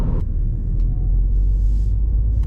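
A car driving at night on an empty road toward a small town near the US–Mexico border, a loud steady low engine and road rumble with faint hiss, close and continuous.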